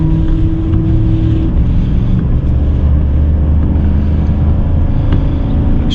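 A steady, loud engine drone from a 2021 GMC 2500HD 6.6L gas pickup on 35-inch tires, towing a 5000 lb trailer in 4x4 through snow, continuous and close, with no voices.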